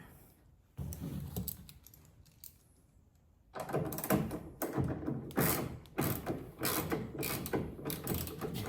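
Small bolts being tightened on a Ford F150 taillight during a halogen-to-LED swap: after a quiet start, a run of metallic ratcheting clicks and rattling turns comes close and fairly loud, in quick repeated bursts.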